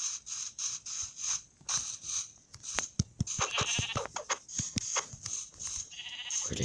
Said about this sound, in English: Oh, there's a sheep over there.